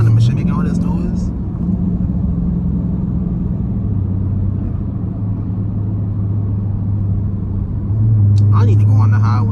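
A Dodge Durango SRT idles and crawls in city traffic with a deep, steady exhaust rumble and a low droning note, loud and close throughout, and a voice cuts in briefly at the start and again near the end.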